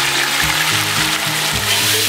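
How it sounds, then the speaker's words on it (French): Frozen vegetables fry in hot oil in a pot, giving a steady, dense sizzle and crackle that fills the whole moment without pause. "je vais directement passer à la friture de mes légumes parce qu'ils ont assez d'eau"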